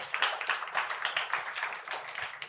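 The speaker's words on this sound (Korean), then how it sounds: "우리 수고한 일본 비전 트립한테 박수 한번 할까요?" A youth worship congregation claps together in a church service, with a moderate, fairly even burst of hand claps at medium distance that lasts a couple of seconds.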